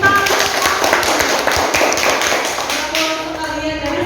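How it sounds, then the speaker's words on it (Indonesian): A small audience at a teacher-training session on agribusiness crops gives a short burst of close, busy clapping. It stays fairly even throughout and tapers slightly near the end. "Tepuk tangan."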